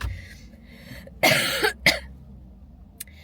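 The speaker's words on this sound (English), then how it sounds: "whatever is in my throat is, like, going into my lungs and making me cough" A single harsh cough followed by a shorter second cough, close up, with a faint click afterward and quiet in between.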